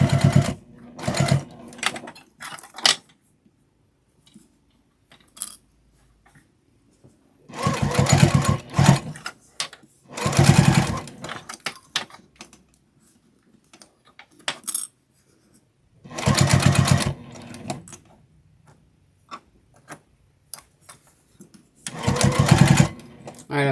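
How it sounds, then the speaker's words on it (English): Sewing machine stitching a snowman wristlet strap close to the edge, several loud bursts of rapid mechanical clatter lasting a few seconds each, separated by quiet pauses with small handling noises. "Now I'm just going to stitch around this at 1/8 of an inch."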